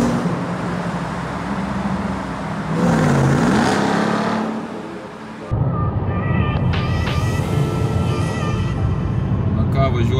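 A Dodge RAM engine turns over and catches, then revs in loud, rising surges close by, with voices talking over the running engine.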